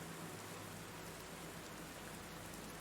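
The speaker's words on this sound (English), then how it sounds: "this is the first time we're fighting in the rain" Steady rain falls through a battle scene in the game Redemption Reapers, a continuous hiss of drops on the ground with no voices, constant and even throughout.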